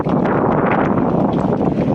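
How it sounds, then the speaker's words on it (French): Strong wind in Normandy, a dense, continuous loud roar with gusty buffeting against the microphone, heard alone near Class 40 racing sailboats in late autumn. "Avec ce vent à décorner des bœufs"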